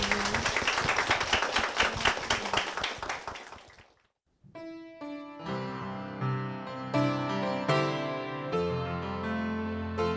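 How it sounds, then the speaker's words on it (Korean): A church congregation applauds for a couple after their testimony, dense steady clapping that fades out, followed by a choral or worship song beginning with sustained chords. "큰 박수 부탁드리겠습니다"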